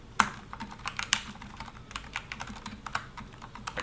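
Rapid keystrokes on a computer keyboard while writing discord.js code, a quick, irregular run of close, fairly quiet clicks and taps with no talking.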